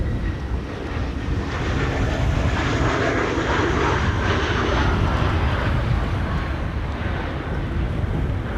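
An ITA Airways airliner arriving at Amsterdam Schiphol from Rome roars steadily past in gusty stormy weather, its engine noise broad and sustained with wind buffeting the microphone.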